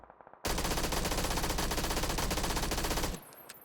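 Video game SMG fired from the hip in PUBG, a loud sustained automatic burst of rapid shots lasting under three seconds, alone with no talk, after a few faint taps.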